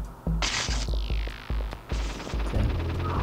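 Rapid electronic zapping blasts from tesla cannons in Crash Bandicoot, several sharp bursts with a descending sweep, loud and close over a low rumbling game soundtrack.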